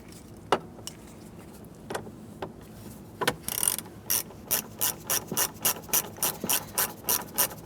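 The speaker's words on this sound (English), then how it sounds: "Install your two T20 Torx bit screws." Torx T20 screws driven in with a ratcheting driver while installing a headlight knob on a 1994-2004 Ford Mustang, starting with a few scattered clicks and building into a steady, close run of ratchet clicks with no talking.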